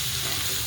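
A ridge gourd, garlic and green chili thecha with coriander and lemon juice being stirred in a hot pan, a brief close sizzle and scrape.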